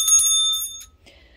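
A small vintage collectible bell, marked 1776 and 1976, rings in a thrift shop with several quick bright metallic strikes close by, then a short pause and one faint final ting.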